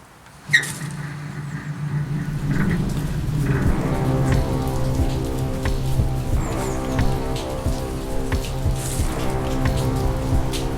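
Steady heavy rain pours down and drums on surfaces throughout, after a brief quieter start with a sharp knock, while a low engine-like hum continues beneath.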